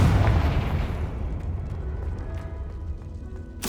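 A Confringo blasting spell explodes in the Hogwarts Legacy video game, a loud, close booming blast that rumbles and slowly fades, with a sharp burst at the very end.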